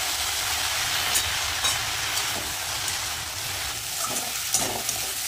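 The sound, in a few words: onion and water spinach greens frying in a pan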